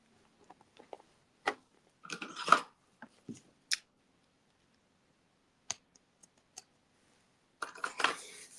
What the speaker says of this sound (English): Let's go ahead and cut this thread